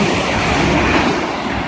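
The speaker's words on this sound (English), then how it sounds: "now we have a passing London Midlands 350 from Birmingham New Street, bound for Liverpool Lime Street" London Midland Class 350 electric multiple unit passing at Hartford on the West Coast Main Line, a steady loud rush of wheels and rail noise with broadband roar, close by and continuous throughout.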